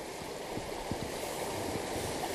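The Aller river, on the border of Asturias and León, rushes through a narrow gorge with cascades and torrents, a steady broadband roar of flowing water with a few soft low knocks mixed in.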